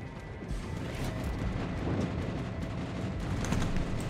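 Ship guns firing in World of Warships on the Midway map: a dense, continuous roar of heavy booming and crashing that holds loud and steady throughout, with no voices.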